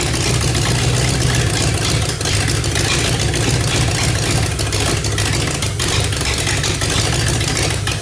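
An old Asheville Custom car, unseen since 1958, fires up for the first time after sitting for decades. Its engine idles loudly and steadily from start to finish, with no talking.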